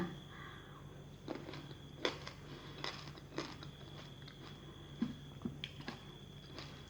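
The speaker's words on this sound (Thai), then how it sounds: "องุ่นเคี้ยวทั้งเม็ดเลยค่ะ เคี้ยวทั้งเม็ดเลย" Whole crunchy sweet red grapes being chewed: faint, close crunches and wet bites come at irregular intervals over a steady low background hum.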